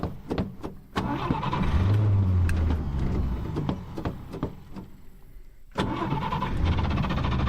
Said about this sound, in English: Let's see if it'll fire back up.